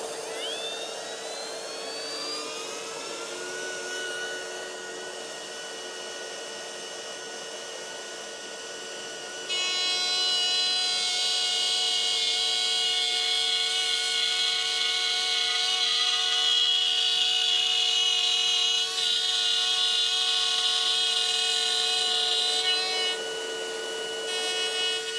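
Cordless Einhell TP-RO 18 Li battery router/trimmer running steadily with a high whining motor tone, rising in pitch as it spins up, then a louder, brighter stretch under load before it eases off near the end, close and continuous.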